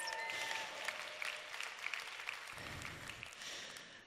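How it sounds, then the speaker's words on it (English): A crowd applauds steadily, a soft wash of clapping heard from a little distance, continuing without pause. "Give them another round of applause, please."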